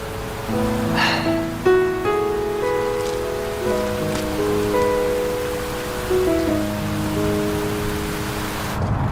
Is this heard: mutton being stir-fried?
no